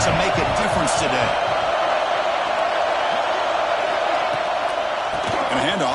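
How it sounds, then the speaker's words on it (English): Home crowd roaring at a college football game in College Football 25, with the Hurricanes on offense. The roar is loud and unbroken from start to finish, with voices and shouts blended into it. "this home crowd is fired up and ready to make a difference today"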